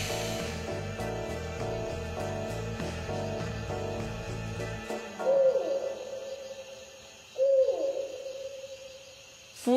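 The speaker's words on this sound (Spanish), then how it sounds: "Keo, los búhos ululan, no pían." Two short tonal hoots from a cartoon owl ring out after a stretch of background music, each followed by a brief echoing tail against a quiet backdrop.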